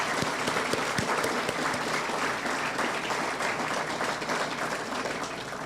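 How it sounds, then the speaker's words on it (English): An audience at a generating station commemoration ceremony applauds Colonel Dawson, a dense, sustained wash of clapping from a sizable crowd that holds steady throughout. "can we give Colonel Dawson a round of applause"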